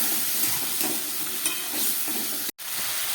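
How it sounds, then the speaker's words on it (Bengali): Spice paste with a little water and chilli powder stir-fried in a pan, a steady close sizzle with scraping stirs, briefly cut off near the end. "এবার মশলাটাকে খুব ভালোভাবে আমি কষাবো।"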